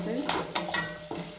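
Pongal ingredients, with a pinch of asafoetida, being stirred and roasted in a pan: a few quick scraping strokes over a soft frying sizzle, close and moderately quiet.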